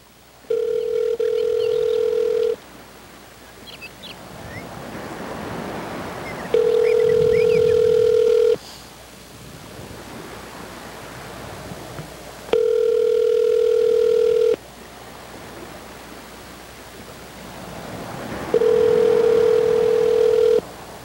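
Phone call ringback tone sounding four times, each ring about two seconds long and separated by quiet gaps, with faint background noise in between.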